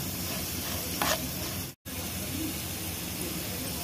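Chana dal frying in a pan with salt and turmeric, a steady close sizzle with scraping stir strokes throughout, broken by one brief silent gap midway.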